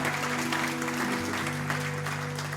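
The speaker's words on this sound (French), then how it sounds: "On peut applaudir Aline et les ados." A church congregation claps in steady, sustained applause, a dense wash of hands close by with a low organ or keyboard tone holding underneath.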